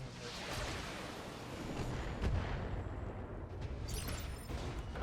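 Mech weapons firing in the game Battletech, a dense, rumbling barrage of booms and blasts that rolls continuously, with a sharp burst near the end and no talking.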